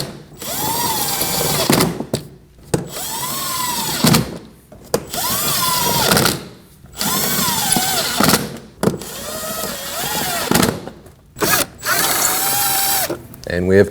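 Ratchet tool driving screws back into a splash shield during an AC serpentine belt job on a 2015-2024 Ford Edge 2.0L four-cylinder, heard close up as five or six bursts of rapid clicking, each ending in a brief pause.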